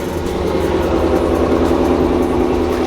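A car engine idles steadily at close range, a continuous low rumble with no breaks and no voices.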